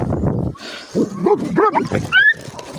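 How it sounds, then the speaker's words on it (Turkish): Several stray dogs growl and yelp close by in short, overlapping bursts, with rising whines mixed in. "Öyle hırlamak yok. Hırlamak olur mu öyle?"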